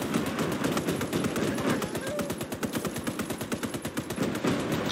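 Rapid machine gun fire in a World War II video game, Call to Arms: Gates of Hell, a loud continuous burst of evenly spaced shots lasting several seconds.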